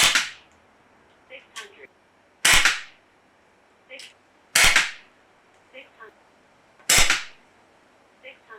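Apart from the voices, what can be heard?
Umarex Notos PCP air rifle firing pellets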